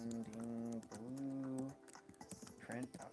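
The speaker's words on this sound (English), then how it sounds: "let me type it up here" Fingers tap on a computer keyboard in a string of quick, light clicks, heard under a louder voice.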